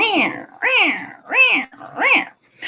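A pet cat meows four times in a row, each a rising-then-falling plaintive cry, close and loud with short gaps between, and a fifth call begins at the end.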